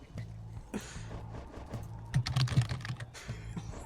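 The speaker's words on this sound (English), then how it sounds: "slamming on your keyboard to make it sound like you're about to do that" Rapid, hard typing on a computer keyboard during a Pyre multiplayer community stream, with dense bursts of clacking keys that grow busier in the middle, close and steady, with faint background sound beneath.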